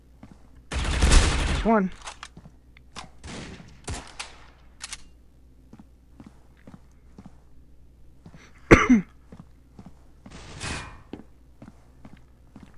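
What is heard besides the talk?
AUG rifle gunfire in the video game Critical Ops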